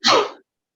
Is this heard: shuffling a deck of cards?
no